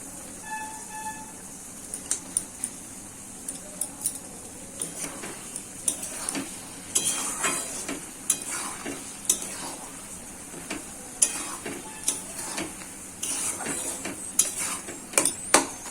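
Dates, raisins and cashews being stirred into a chutney in a pan, with soft scraping and clinking of the spoon against the metal in an irregular rhythm over a faint steady sizzle, close and moderately loud.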